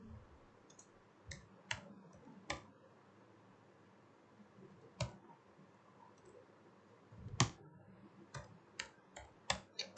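Sparse, faint clicks of keys on a computer keyboard while someone types HTML form code, irregular single taps and short bursts over a quiet room hum.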